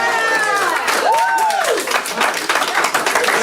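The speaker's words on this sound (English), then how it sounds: "the Salter family clapped with joy as Lang was sentenced" Family members applaud in a courtroom as a killer is sentenced, a dense, steady patter of clapping that runs the whole clip, with voices mixed in.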